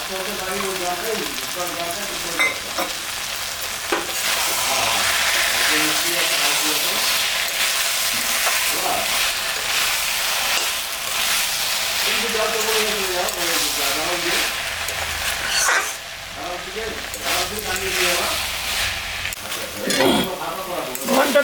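Fish head frying in a pan with a little sugar and ginger paste, cooking for spinach curry, giving a steady loud sizzle with stirring clatter throughout, close by.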